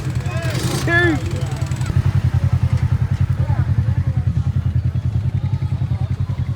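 Arctic Cat off-road vehicle engine at Hog Waller on its first ride, a steady low rhythmic chug that swells as it revs, with people talking and calling out over it.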